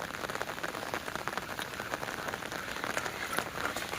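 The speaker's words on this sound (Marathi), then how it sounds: "पाऊस लागतोय पाऊस लागतोय" Steady rain falls on open farm fields, a continuous even patter and hiss with no voices.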